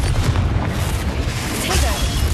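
A booming blast from the Confringo spell in the Hogwarts Legacy video game, a deep loud rumble with crackling debris, close and sustained, with speech mixed in.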